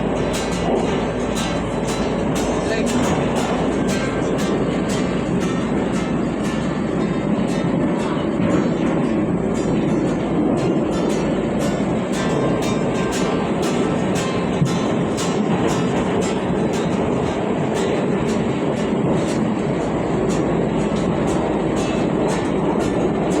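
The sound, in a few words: inside a moving amusement park train in Moscow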